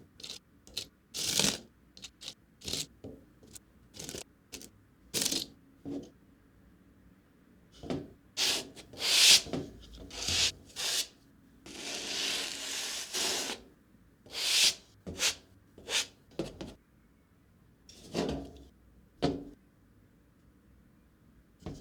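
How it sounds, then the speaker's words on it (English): Capsule powder is scraped across the base plate of a Nukraft NK-100 manual capsule filling machine, producing close, dry rubbing strokes in short irregular bursts separated by pauses, with one longer continuous scrape midway and no talking. "Scrape it around so you fill all of the caps back up to the top."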